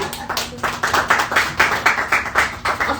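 A comedy club audience claps at a cannabis venue comedy night, a loud, dense run of applause with rhythmic pulses, close and continuous.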